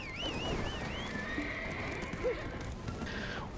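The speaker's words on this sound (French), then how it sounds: "Tout le monde monte sur son cheval?" Horses whinnying in the Black Desert online game as riders mount up, a clear high neigh rising and falling at the start, then softer snorts and faint hoof clops under quiet voices.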